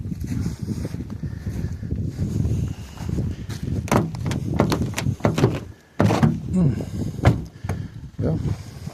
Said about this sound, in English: I was able to open the car door up.